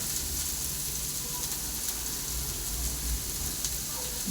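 Chopped onion with salt sizzling steadily in a pan for Kerala-style beet thoran, a continuous close frying hiss with no break.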